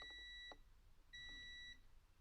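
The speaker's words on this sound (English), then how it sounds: "You can hear when I put my leads together, it beeps and makes a sound." Multimeter continuity beeper on a Whirlpool, Maytag or Kenmore dryer repair, two short high-pitched electronic tones about half a second each, separated by a brief pause, faint and clean.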